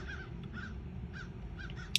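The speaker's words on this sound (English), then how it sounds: "I'm taking those birds as confirmation." Several crows caw in short, separated bursts over a steady low background rumble. The calls are moderately clear but not close, and no one speaks.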